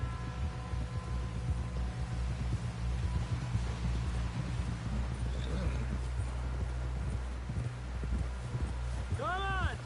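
Horse hooves clip-clop in a steady rhythm as a rider pushes toward camp in Red Dead Redemption 2, close and continuous under game music and voices.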